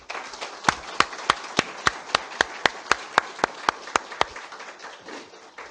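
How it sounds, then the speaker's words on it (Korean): A school group of sixth graders from Cheongho Elementary is welcomed by the audience at a Sokcho city council plenary session with evenly spaced, crisp claps in a steady rhythm over a faint room background. "큰 박수로 환영해 주시기 바랍니다."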